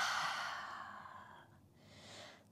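An open-mouth exhale during a yoga session, a long audible breath out that fades over a couple of seconds, close and soft, followed by a faint second breath.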